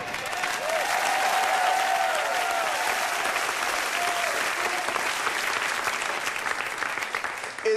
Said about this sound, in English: Big round of applause there for Sinead.